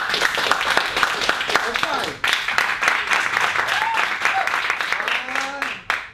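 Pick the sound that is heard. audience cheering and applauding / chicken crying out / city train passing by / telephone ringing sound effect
audience cheering and applauding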